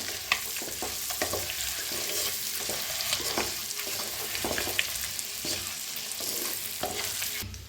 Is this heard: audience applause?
no